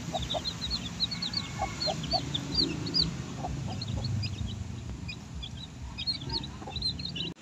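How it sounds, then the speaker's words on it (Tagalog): Newly hatched chicks peep in quick, high, repeated chirps throughout, with a few lower clucks of adult chickens mixed in over a steady outdoor background. "Kaya meron na po kaming sisiw na palalakihin."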